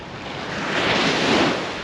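Calm ocean waves wash softly onto the shore in a broad hiss that swells and fades once, mixed with light wind buffeting the microphone.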